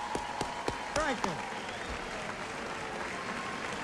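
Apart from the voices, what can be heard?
audience applause for a governor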